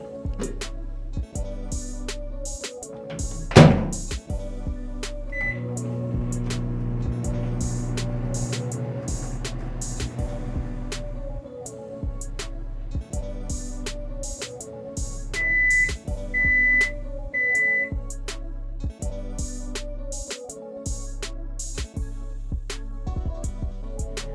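A microwave oven runs at full power heating a mango sandesh mixture, giving a steady low hum against a rhythmic backdrop, then three short, high electronic beeps sound near the end.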